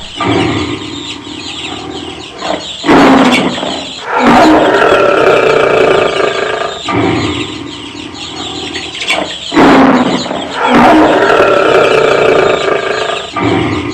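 A lion caught in a hunters' trap roars loudly in a cartoon jungle story, repeated harsh roars in bursts separated by short gaps, close and dominant, no speech.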